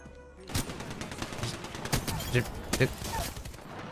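A Devotion gun in Apex Legends firing continuous automatic bursts, fairly close and steady, with a voice talking over the shooting.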